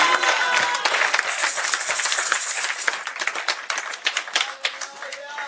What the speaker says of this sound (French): Est-ce qu'on peut applaudir pour Jésus?